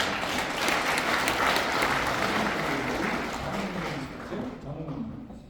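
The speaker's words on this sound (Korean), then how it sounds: "여러분 박수 한번 보내주시기 바랍니다" An audience at a lecture event applauds, a dense burst of clapping from many hands that holds steady for several seconds before thinning and fading out.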